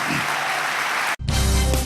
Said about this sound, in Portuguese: Aplauda o Senhor comigo nesta noite